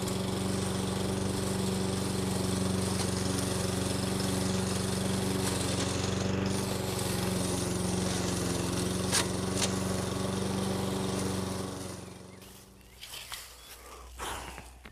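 Einhell VTS011 lawn mower fitted with a side discharge deflector and set to maximum cutting height, a loud steady engine drone that runs continuously before cutting out near the end, followed by a few light knocks.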